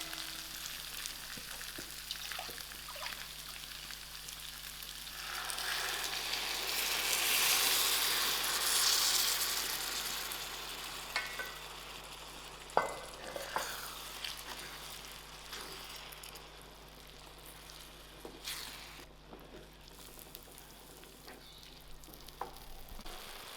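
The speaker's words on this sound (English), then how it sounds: "And now I'm going to add in" Stock poured into fried-out rice for a seafood paella sets off a steady, close, hissing sizzle that swells loudly in the middle and then settles, with a few clinks of utensils, no voices.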